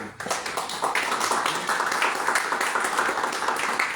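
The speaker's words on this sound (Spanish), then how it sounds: "Un aplauso para mi querido." A room full of people applauds steadily, a dense wash of clapping that stays loud and even throughout.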